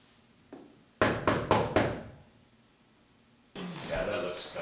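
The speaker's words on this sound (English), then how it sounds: "Knock for me one more time." Four sharp knocks on a door in quick succession on a film set, loud and close, followed by a murmur of people talking.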